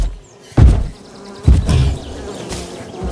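Bees in a video game give off a buzzing drone broken by several soft thuds, loud and close, without any talking.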